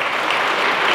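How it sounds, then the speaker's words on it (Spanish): Steady, dense clapping from an audience at an award ceremony handing out PACMyC cultural support grants, loud and continuous throughout with no voices over it. "Un fuerte aplauso"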